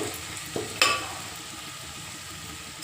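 Dry red chillies fry in a pan, a steady soft sizzle with a sharp crackle and clatter early on, then a continuous hiss.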